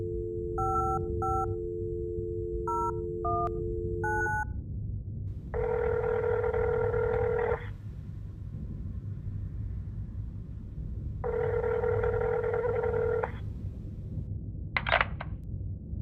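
Telephone number dialed on a phone in the video game Fear The Spotlight, a quick series of distinct keypad tones followed by two long ringback tones with a pause between, then a brief click.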